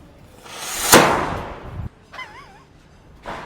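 A miniature cannon fires a powder charge with one sharp, loud bang that decays into a hissing rumble, followed by quieter bursts of noise and a warbling tone.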